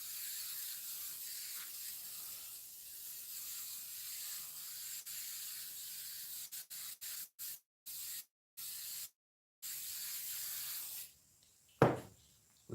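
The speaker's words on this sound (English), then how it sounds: "Everything else is fair game to be covered in spray adhesive" A can of spray adhesive hisses in long, steady bursts, then in short broken spurts toward the end, quiet and close, followed by a sharp knock.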